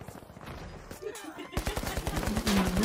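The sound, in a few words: gunfire from a gun in the video game The Finals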